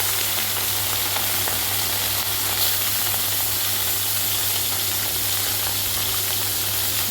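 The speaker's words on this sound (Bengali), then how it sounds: "সরষের তেল দিয়ে আমি মরলা মাছগুলো ভাজবো" Small morola fish frying in hot mustard oil, a steady dense sizzle and crackle that holds evenly throughout with a faint low hum beneath, no voices.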